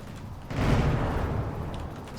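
Battleship gun turrets fire in a naval combat video game, a sudden heavy boom rolling into a sustained low rumble that fades slowly, with no voices.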